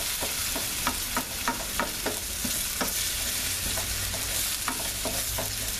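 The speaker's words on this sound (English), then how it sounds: "Throw the potatoes in there. I'm going to cook these up for a little bit." Potatoes fry in a pan alongside sausage, a steady dense sizzle with repeated scraping stirs and light clinks of the utensil, close and continuous throughout.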